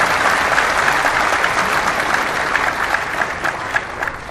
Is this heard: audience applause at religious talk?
yes